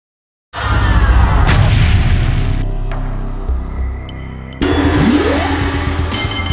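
A brutality finishing move in the fighting game Mortal Kombat Trilogy plays as a loud, dense stream of booming game effects, with a continuous thudding rumble, layered hits and a rising synthetic sweep near the end.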